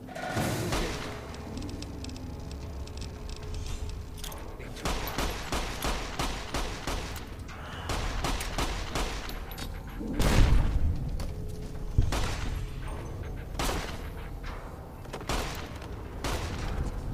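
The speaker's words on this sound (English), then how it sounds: "that grenade did not go far" Grenade explosion and bursts of gunfire in the Fallout New Vegas Dead Money game, a dense run of repeated shots with a louder boom near the middle, steady combat noise throughout with no talk.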